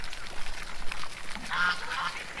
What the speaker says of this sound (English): Y'all Rooster's getting after Peanut now